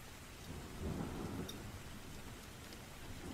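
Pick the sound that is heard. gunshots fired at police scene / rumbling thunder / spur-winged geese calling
rumbling thunder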